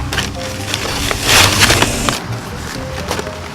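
Plastic packaging for pumpkin carving tools crackles and crinkles up close, with rustling and sharp tearing bursts as the tools are unwrapped.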